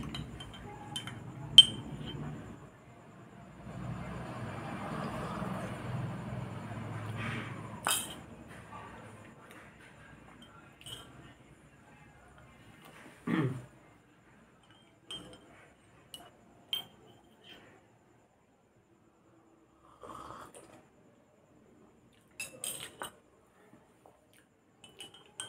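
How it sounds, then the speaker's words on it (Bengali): A spoon stirs Horlicks in a glass with sparse, faint clinks and taps scattered among quiet pauses, and a soft voice speaks briefly near the start. "ভালো করে ঘেটে নিলাম, না হলে গুলবে না।"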